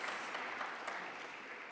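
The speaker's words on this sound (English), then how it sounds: "You can clap for that." An indoor audience at a Sustainable Jersey gathering breaks into steady applause, a dense, even wash of many hands clapping at moderate loudness for a couple of seconds with no voices over it.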